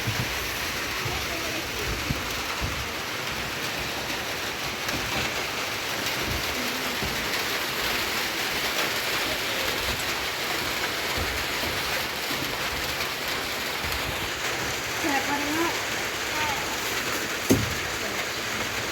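Heavy rain falling as a storm moves into Laos, a steady dense hiss of downpour throughout with a few brief knocks and faint background voices.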